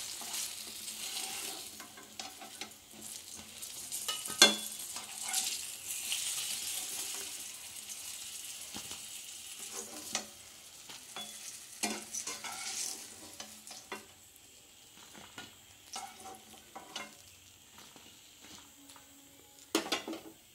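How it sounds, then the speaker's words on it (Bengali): Eggplant frying in oil in a pan, a soft continuous sizzle broken by clinks and scrapes as pieces are lifted out one by one, fairly quiet with no talking. "আমার বেগুন ভাজা হয়ে গেছে লাল লাল করে, আমি এক এক করে সব তুলে নিচ্ছি।"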